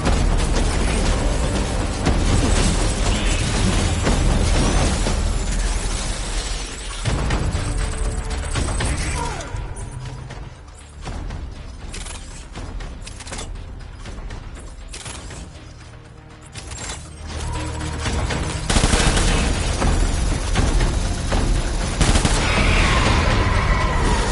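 Sustained gunfire in the video game Death Stranding, dense bursts and mechanical clatter running almost throughout, easing off briefly in the middle before loud rapid fire returns.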